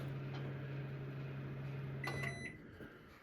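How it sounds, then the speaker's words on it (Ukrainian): A Panasonic NN-ST34HWZUE microwave oven runs with a steady low hum for about two seconds, then stops, leaving brief faint clicks and a small knock at the end. "Мікрохвильовка відстоялася після морозу. Працює тихо, гарно."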